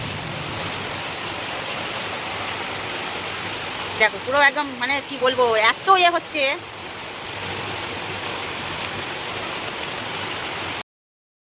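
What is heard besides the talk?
rain in a windy storm by the Ganges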